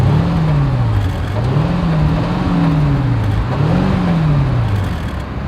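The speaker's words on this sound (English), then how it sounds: "As always, here is that exhaust clip." A Mercedes-Maybach S580 with dual exhaust drones loudly and close by, its engine note rising and falling smoothly over a continuous rumble.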